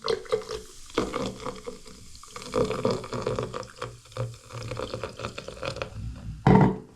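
White vinegar pours and splashes into a drain holding baking soda in uneven bursts, with gurgling and trickling, ending in a brief louder gush.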